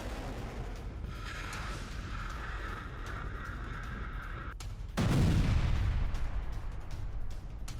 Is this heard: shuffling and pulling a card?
no